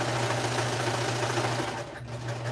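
A sewing machine runs steadily while stitching pajama pant fabric, giving a continuous close-up mechanical whir with a low motor hum. It eases briefly just before the end, then resumes.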